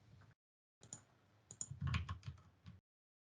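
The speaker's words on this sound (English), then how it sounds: "Now we type git clone and the URL that we had." Quiet clicks of computer keyboard typing come in short bursts of uneven taps, close and soft, with brief pauses between runs of keystrokes.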